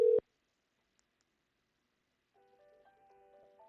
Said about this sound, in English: You may be able to hear my personal phone ringing in the background.